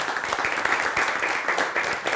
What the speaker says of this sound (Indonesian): Tepuk tangan dong buat Izzat.